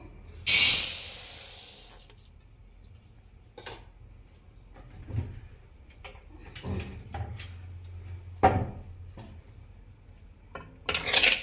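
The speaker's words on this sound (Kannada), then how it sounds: "ಇವಾಗ ಸ್ಟವ್ ಹಚ್ಕೊಳ್ಳೋಣ" Gas stove lit under a kadai, opening with a loud burst of rushing gas hiss for about a second, then scattered clanks and knocks of pan and utensils nearby.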